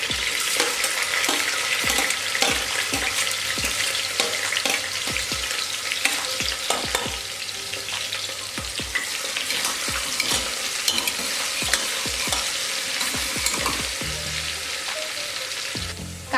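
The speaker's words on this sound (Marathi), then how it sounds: "आता बारीक चिरलेला कांदा टाकून घेऊया।" Finely chopped onion frying in oil with mustard seeds and curry leaves for Kolhapuri misal, a dense, loud hiss and crackle broken by frequent clacking spatula strokes against the pan, no talking.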